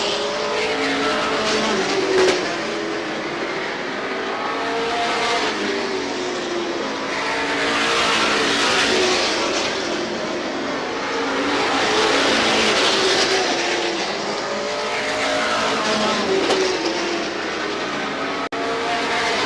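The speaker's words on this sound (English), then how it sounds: "They're battling for the 8th position behind Alan McClure." Race cars battling at Star Speedway in 1991, a continuous roar of engines swelling and fading as the pack passes, with faint tire squeal mixed in.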